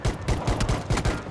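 Rapid bursts of gunfire in PlayerUnknown's Battlegrounds, a dense run of loud shots with uneven spacing across roughly a second and a half, near and sharp.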